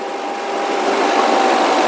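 The engine of a straw-chopping (tudi) farm machine runs at a constant, loud droning hum with a steady mechanical whine, close by and without voices.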